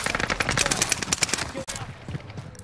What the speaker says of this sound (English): They're shooting through the roof, man.